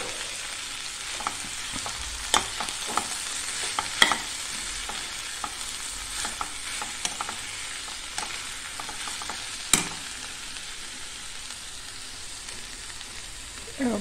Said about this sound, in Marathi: भाजीला आता हलवून घेतले.